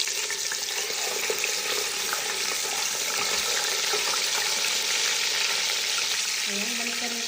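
Chicken pieces frying in reused hot oil crackle and sizzle continuously up close, a loud, even hiss with scattered pops and spits, steady from start to finish with no one speaking.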